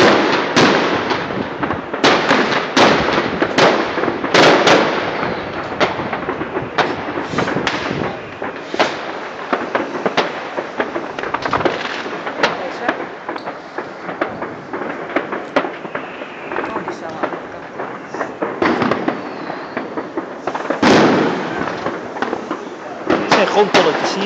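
New Year's Eve fireworks being set off across Nijmegen, a dense, continuous barrage of crackling bursts, pops and booms, some near and loud, others distant, with people talking throughout.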